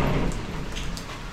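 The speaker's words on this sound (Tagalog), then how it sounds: "umuulan, guys." Steady rain falling on a Bali villa on a wet morning, a dense continuous patter with no voices over it.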